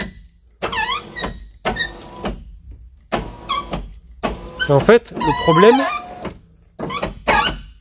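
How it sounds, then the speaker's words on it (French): The front left power window of a Peugeot 207 CC squeaks in repeated, high-pitched chirping runs as the glass moves, close up, with someone talking briefly between the squeals. "concernant le fameux couinement de la vitre de porte avant gauche"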